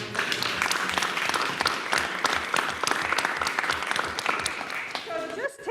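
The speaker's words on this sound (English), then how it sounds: "can we just give them a round of applause?" A Board of Education meeting audience gives a round of applause for teachers, steady mid-level clapping filling the room throughout, with a voice starting to speak near the end.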